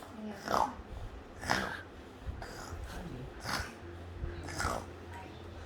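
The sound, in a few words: child imitating snoring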